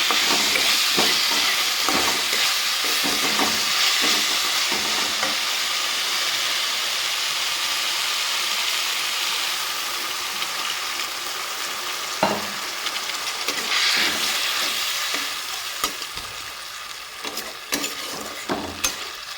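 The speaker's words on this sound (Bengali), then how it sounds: "মাছের সাথে একটু মশলাটাকে কষিয়ে নেব" Tengra catfish frying with spices in hot oil for a Bengali tel jhal, a loud, steady sizzle with crackling bursts and scraping stirs that rises and falls over nearly twenty seconds, no speech.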